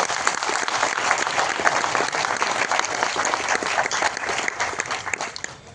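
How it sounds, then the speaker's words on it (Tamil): Loud, dense applause from a packed auditorium audience at a Tamil film's music launch ceremony, sustained and even throughout with no voices rising above it. "இந்த அரங்கமே அதுற மாதிரி அப்பாவுக்கு பலத்த கரகோஷம் கொடுங்க"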